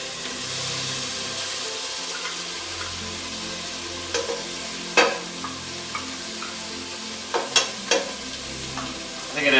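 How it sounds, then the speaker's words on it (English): White bean chicken chili with diced green chilies is stirred in a pot: a steady soft sizzle and bubbling runs throughout, with a few sharper spoon scrapes and clinks near the end. "So stir that in, let some of that flavor come out."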